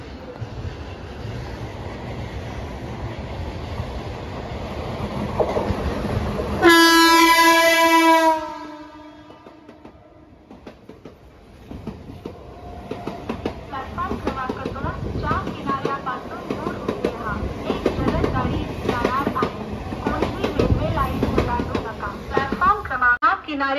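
Fast Mumbai local train passing Vidyavihar station: a loud sustained horn blast, then rolling wheels and clattering carriages rising and continuing, with announcements and platform voices heard beneath.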